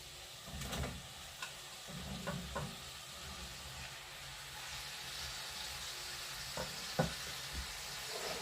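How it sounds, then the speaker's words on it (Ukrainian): Mushrooms frying in leftover meat fat in a pan, a soft steady sizzle running throughout with a few sharper clacks from stirring or utensils. "Жирок залишається, будемо на ньому обсмажувати грибочки."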